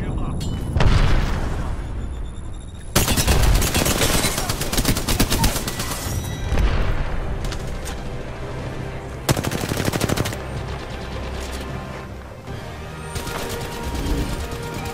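Gunfire in the game Apex Legends comes in loud, rapid automatic bursts with heavy booming impacts and explosions. Several long volleys are spread across the stretch with brief pauses between them, and a voice talks over parts of the shooting.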